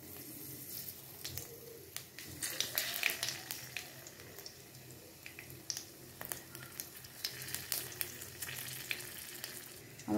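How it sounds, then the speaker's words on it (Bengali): Spice tempering sizzles in hot oil in a pan over a raised gas flame, a steady crackling fry with scattered pops and sputters throughout, close and fairly quiet. "এবার আমি ফোড়নটা দিয়ে দেবো।"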